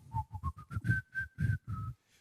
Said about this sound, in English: That's you whistling there, Dixie